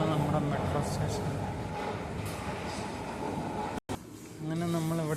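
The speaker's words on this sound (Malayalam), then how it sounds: "ഇതാണ് നമ്മുടെ മെട്രോ സ്റ്റേഷൻ." A metro train at a station in the Russian metro rumbles steadily with rail noise, briefly cutting out before a tonal hum rises near the end; voices talk over it.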